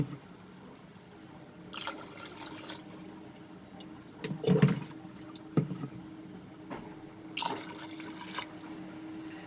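Water is poured into a pot of sautéed rice for chicken pish pash, coming as a few short splashing and gurgling bursts over a quiet kitchen background, fairly soft and close.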